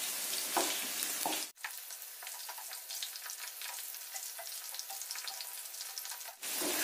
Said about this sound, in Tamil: சோ இது நல்லா கோல்டன் பிரவுனா ஃப்ரை ஆயிடுச்சு